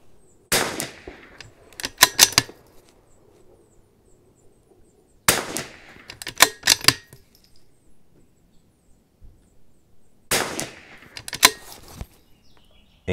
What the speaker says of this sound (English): I'll run through a mag real quick, like before the match when we're in our zeroing period.